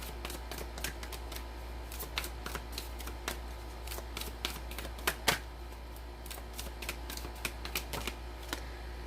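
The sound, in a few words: tarot cards being shuffled and pulled from the deck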